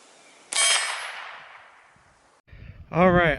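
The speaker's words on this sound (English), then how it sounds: "let's take a shot at the target, at the ballistic panel, and see what happens." A single .22 rifle shot from a Ruger 10/22 strikes a ballistic soft armor panel, giving one sharp metallic clang that rings and slowly fades, followed by a brief rustle and a short voice at the end.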